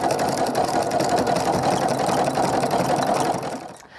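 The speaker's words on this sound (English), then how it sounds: "I'm gonna stitch all the way to the edge here." A sewing machine stitches a jelly roll rug out to the edge in a continuous, loud, fast hum of needle strokes that cuts off abruptly near the end.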